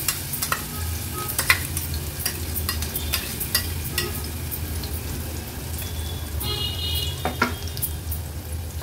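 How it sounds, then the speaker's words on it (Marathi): Masala paste for an Agri Koli style fish curry frying in about two tablespoons of hot oil, a steady close sizzle with scraping stir strokes and sharp spatters throughout, no talking. "वाटण तेलामध्ये थोडंसं परतून घ्यायचंय।"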